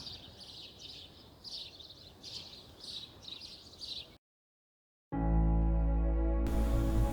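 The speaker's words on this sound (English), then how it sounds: "And you can hear the sparrows again. I think this is not just the sparrows, but there are a lot of different birds here." Several birds, sparrows among them, chirp in rapid bursts on a mountain road trip in the Spiti region, their calls repeating for about four seconds before dropping to silence, then a loud steady drone takes over.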